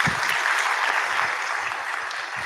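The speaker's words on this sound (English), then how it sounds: "Let's give Emilia a proper round of applause" A room full of people claps together for a speaker about to present at a data journalism talk, a dense steady round of applause lasting throughout without any voices over it.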